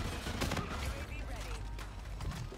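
Gunfire rattles through a match in the video game Infinite Warfare, with bursts of shots over a busy, noisy game mix and a voice talking over it.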